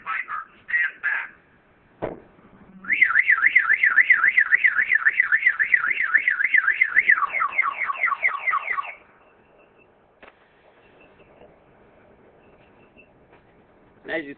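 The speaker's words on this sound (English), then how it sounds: "we're going to go ahead and fully trigger the alarm" A Viper car alarm set off to full trigger, blaring a loud, rapidly warbling electronic siren for about six seconds, with a few short chirps before it and brief quiet beeps afterward.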